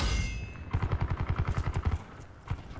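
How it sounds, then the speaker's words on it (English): Rapid gunfire in Call of Duty Black Ops 4, a fast string of punchy shotgun-like reports fired in quick rhythm for over a second, followed by a couple of isolated shots, fairly close and loud. "it kind of gets that splat and the ping sound like a headshot"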